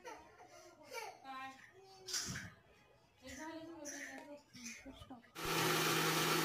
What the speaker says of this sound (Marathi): मिक्सरमधून फिरवून घेतल्यानंतर आपली जवसाची चटणी रेडी आहे खाण्यासाठी.